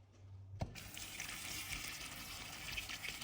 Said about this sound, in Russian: Давайте мы посмотрим напор воды.